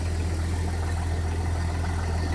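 Car engine with a homemade snorkel idles while warming up, a steady, even low hum heard close and alone for the whole stretch.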